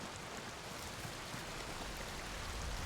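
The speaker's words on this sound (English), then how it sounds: "Let's check out behind this waterfall." A waterfall in the video game Atomfall gives a steady, full rushing roar that runs unbroken and evenly loud throughout, with no voices over it.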